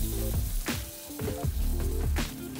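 A fragrant mango emulsion poured into a hot pan sputters and sizzles loudly, with irregular pops and crackles running over a continuous frying hiss.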